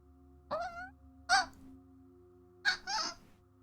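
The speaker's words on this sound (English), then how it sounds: "Crow noises." Harsh crow caws, about three calls in close succession, fairly near and clear over a quiet, low background hum.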